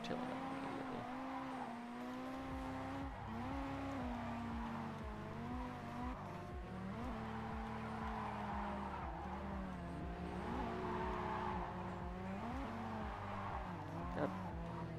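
A tuned JDM car in a racing video game fishtails with a steady, loud engine drone and pitch swoops as the rear slides, continuous throughout without talk.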